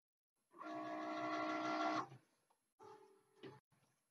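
A Cricut cutting machine draws an image outline with a pen, giving a steady mechanical whir with a faint tonal hum. It runs continuously for about a second and a half, pauses, then comes back in shorter bursts of motor movement.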